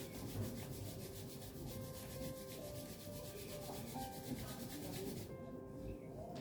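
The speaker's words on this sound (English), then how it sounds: "Rub your palms." Palms rub together in a steady, soft, close swishing during a yoga session, continuing evenly for several seconds with no talk.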